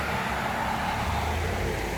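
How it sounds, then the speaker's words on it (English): Cars pass in a steady, loud wash of traffic at a busy intersection, with continuous engine and tyre rumble close by. No voices. "Sorry about all the cars, guys."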